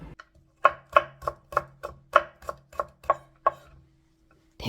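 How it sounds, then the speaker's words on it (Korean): A knife cuts a carrot into thin strips on a cutting board, about a dozen crisp, evenly paced chops close up with no other sound. "당근을 조금만 채를 썰어서 넣을 거예요"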